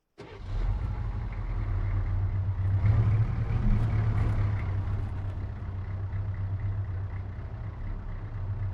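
A vehicle engine in Arma 3 rumbles low and steady at close range, starting abruptly and holding a constant mid-pitched drone as it drives.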